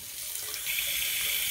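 A tap runs steadily into a sink while a urine-collection reservoir is rinsed, a close, continuous hiss of splashing water with no talk.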